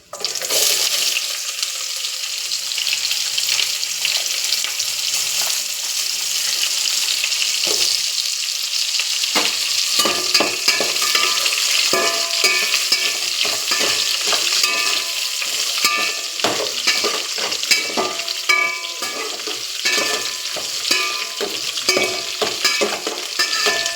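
Chopped onion sizzles and crackles steadily in hot oil for gongura pulao, with a spoon scraping and stirring through the pan, continuous and close with no voices.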